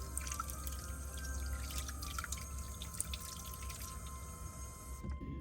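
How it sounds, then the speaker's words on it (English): Tap water runs steadily into a sink while a garlic chopper is rinsed, with a soft continuous splash, scattered drips and a low hum, cutting off near the end. "So I'm just going to try to rinse it off as best as I can."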